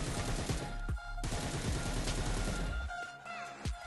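Gunfire rings out in the video game PUBG as rapid bursts of automatic fire with sharp, loud cracks. A brief pause falls near the one-second mark, and the shots thin out toward the end.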